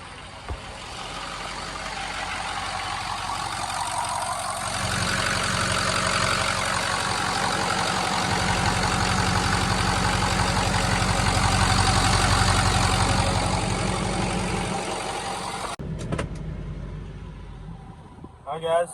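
A diesel tow truck idles with new 155cc injectors fitted, a steady, even low rumble that swells slightly midway and drops off near the end, with someone talking over it.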